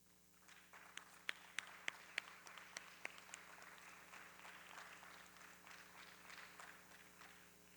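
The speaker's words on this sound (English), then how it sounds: "Big round of applause." Audience applause at a dance debut recital: a few sharp, scattered claps open, then a soft, steady patter of clapping from a distant crowd in a quiet hall.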